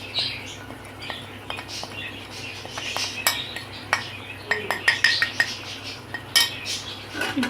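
A spoon scrapes and clinks against a pan while cumin powder, garam masala and crushed chilli fry for an aloo palak curry, giving scattered metallic taps that grow denser toward the end over a low steady hum, with no voices.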